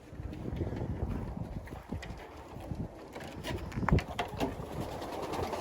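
Pigeons kept in Canada coo softly with low, throaty murmurs, mixed with wing flutters and scuffling close by, fairly quiet and uneven.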